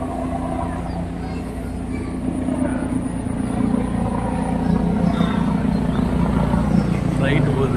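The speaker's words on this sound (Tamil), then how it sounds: "ஃப்ளைட்டு போகுதுங்க." Airplane passing overhead above a park in Sholinganallur, Chennai, a continuous low engine roar that swells slightly over time, mixed with outdoor background noise and faint voices.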